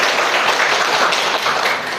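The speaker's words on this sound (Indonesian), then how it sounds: "Oke, tepuk tangan dulu." A university class on dance gives a short burst of hearty applause during a teaching session. The clapping is thick and close, with no talk, and tapers slightly at the end.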